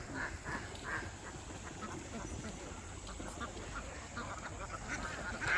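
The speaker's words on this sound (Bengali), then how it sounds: "অনেক সুন্দর এক ঝাঁক হাঁস" A flock of about two hundred domestic egg-laying ducks quacks steadily at mid distance, dense overlapping calls over outdoor background noise with no clear talk.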